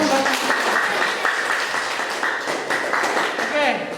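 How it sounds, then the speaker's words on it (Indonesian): Students in a classroom applaud a presenting group with steady, dense clapping from many hands that lasts several seconds, close and fairly loud, with some voices mixed in. "Kasih tepuk tangan buat."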